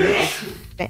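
A single quick sneeze bursts out at the start, close and fairly loud, followed by a brief breathy sound as it fades.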